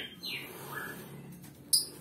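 Short whistles and chirps of a white-rumped shama sound over a low background hum, with a sharp high note near the end; no voices.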